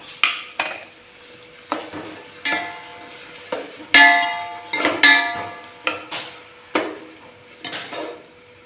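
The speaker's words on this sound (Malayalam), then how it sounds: "ഇനി ഇത് നന്നായിട്ടൊന്ന് വരട്ടിയെടുക്കാം" Onions, green chillies and salt are stirred in a pan for chicken curry: a spoon scrapes and knocks against metal in irregular strokes, some ringing sharply, over a faint sizzle, with no talking.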